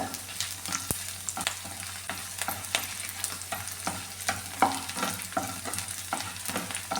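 Ingredients frying in hot oil in a pan while being stirred for a drumstick-leaf (moringa) chutney, with steady close sizzling crackle and repeated soft scraping strokes throughout, no voices.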